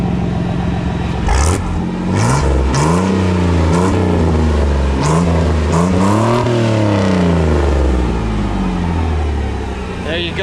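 A pickup truck with a custom exhaust is revved hard several times, each blip a loud, rising and falling engine howl that swells into one long sustained rev before easing back to a throaty idle, close to the microphone.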